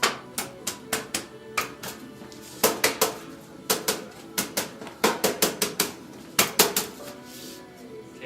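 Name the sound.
metal lid pressed onto a paint can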